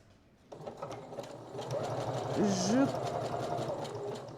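Sewing machine stitching along a garment strap, a steady close mechanical whir starting abruptly and running continuously, with a voice talking over it.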